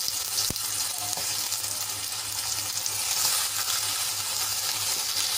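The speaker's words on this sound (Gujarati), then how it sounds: "હવે એ જ કડાઈમાં આપણે ટમેટાને સાતળી લેવાના છે" Steady sizzling of tomatoes sautéing in a frying pan, with a faint clatter at the start and a low background hum, no voices.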